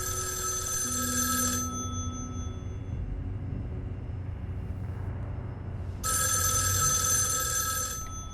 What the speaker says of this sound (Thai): โทรศัพท์ดังนานครับเสียมารยาท